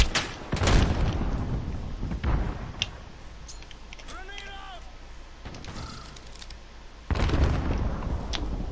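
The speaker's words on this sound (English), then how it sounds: "He moved when I threw the fire grenade right where he was" Fire grenade and gunfire in the Modern Warfare video game, loud booming bursts and crackling shots at the start and end, with a quieter stretch between them while someone talks.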